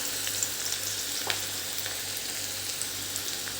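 A finely chopped medium onion fries in hot oil with spluttered mustard seeds, giving a continuous close sizzle dotted with small crackles and pops.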